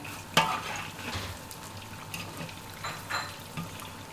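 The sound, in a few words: sweet potato nian gao frying in oil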